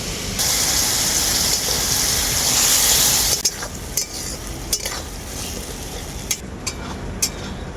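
Bottle gourd is stir-fried with mustard, poppy seed and ginger paste, giving a strong steady sizzle for about three seconds. Then comes a series of distinct spatula scrapes and clinks against the pan, close up.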